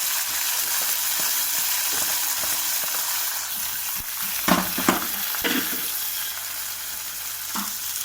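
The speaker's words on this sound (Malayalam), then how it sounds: "കടുക് തളിച്ചത് നമ്മൾ ഇതിലേക്ക് ഒഴിച്ചു കൊടുക്കും." Mustard seed tempering poured into a pineapple curry sizzles steadily, a continuous hiss broken by a few sharper splutters and stirring clatters partway through.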